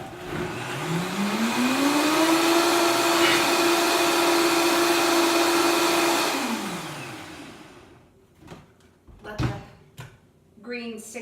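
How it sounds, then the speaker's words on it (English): A blender whirs loudly as it mixes drinkable greens into earth milk, spinning up to a steady high whine for several seconds before winding down, followed by a few faint clinks and knocks. "I just need to zap it in the blender. This part will be loud."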